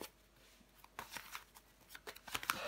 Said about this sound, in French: je vais recouvrir des cartes